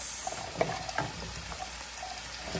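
Vegetables go into a pot of simmering ginataang monggo, a coconut milk mung bean stew with string beans, eggplant and squash, giving a soft continuous sizzle broken by a few small clinks and splashes as they drop in, with no talking.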